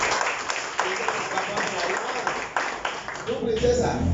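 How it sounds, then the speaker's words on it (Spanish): A church congregation claps together in steady, dense applause that fills the room for a few seconds before a voice speaks over the fading clapping. "Un aplauso a Dios por la vida de Claudia."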